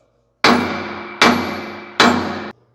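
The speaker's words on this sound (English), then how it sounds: "Drive this wedge up." Three heavy metallic hammer blows drive a wedge up on a Case IH Quadtrac tractor axle, each strike ringing out loud and close before being cut short by the next, with no talking.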